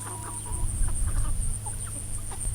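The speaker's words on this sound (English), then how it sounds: "That's what a good, healthy chicken looks like and what it's supposed to be doing." Chickens cluck in short, soft bursts close by while they scratch through grass on a farm, over a steady outdoor ambience with a faint high hum and no talking.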